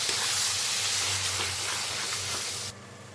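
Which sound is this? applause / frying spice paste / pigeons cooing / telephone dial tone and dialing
frying spice paste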